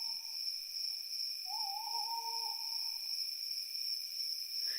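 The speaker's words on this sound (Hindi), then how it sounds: "दूर जंगल से आती रात के पंछियों की आवाज दिल की धड़कनें बढ़ा रही थी" Night birds call from a distant forest at midnight, one wavering mid-pitched call near the middle rising and falling, set against a steady high insect-like drone and faint background hum.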